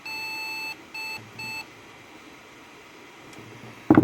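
An IBM Thinkcentre M50-8188 desktop computer sounds three clear electronic beeps in a row during a recovery attempt, then low hum before a sudden louder noise at the end.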